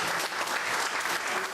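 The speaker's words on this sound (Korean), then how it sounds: "박수 한번 주시고" Audience applause at an indoor fishing seminar, a steady dense wash of clapping from many hands throughout, fairly loud and close with no talking over it.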